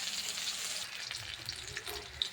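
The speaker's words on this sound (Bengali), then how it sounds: "শিঙি মাছটাকে আমি ভেজে নেব সুন্দর করে" Singi fish (stinging catfish) frying in hot oil in a pan, a steady, dense, close crackling sizzle that runs continuously with occasional sharper pops and no voices over it.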